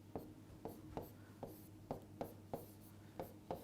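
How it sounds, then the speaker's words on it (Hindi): A pen scratches out a word by hand on paper, a steady series of short strokes and taps repeating at an even rhythm, close and quiet over a low hum, with no talking. "सबसे पहले हमारा जो वर्ड है उसे लिख लेते हैं"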